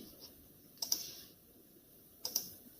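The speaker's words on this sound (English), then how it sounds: "Yes, you can just type 韵母." Computer keyboard typing heard as two brief clusters of light, crisp key clicks about a second and a half apart, close and quiet in an otherwise still room.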